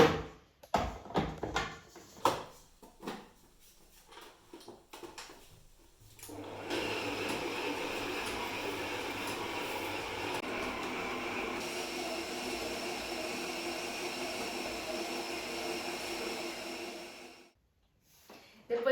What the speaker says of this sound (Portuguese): eu posso voltar para a batedeira e colocar em velocidade média para sovar